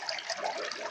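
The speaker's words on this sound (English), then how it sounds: "That's the sound of clean water in your house." Clean water runs steadily from a household tap, a continuous bright hiss and splash that stays even and close throughout.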